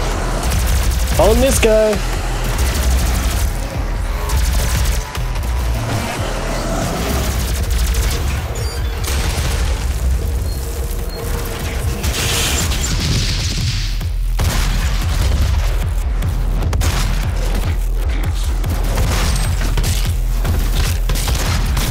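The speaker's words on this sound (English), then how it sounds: "Let's try out our new rifle." Rifle fire in Doom (2016), a dense, loud stream of shots and booms over a constant heavy game soundscape, with someone talking briefly near the start.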